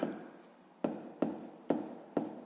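A pen writes math working on paper, close by: a run of about five distinct scratchy strokes, each starting sharply and trailing off, with brief pauses between.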